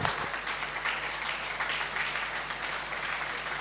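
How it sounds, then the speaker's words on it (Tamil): Steady audience applause at an appreciation ceremony of an astrology school, filling the whole stretch at an even, moderate level with no pauses. "அனைவரும் கைத்தட்டி கரகோஷங்கள் எழுப்பி அவர்களை உற்சாகப்படுத்துங்கள்."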